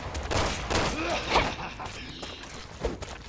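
Gunfire in the Resident Evil 6 video game, a busy spread of bursts and impacts running the whole time over a dense game soundtrack, with a voice briefly heard in the mix.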